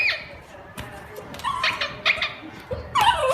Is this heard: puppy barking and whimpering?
yes